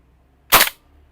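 A single sharp, close crack comes from a KWA PTS Masada gas blowback airsoft rifle. It is one brief, loud pop that decays fast into quiet.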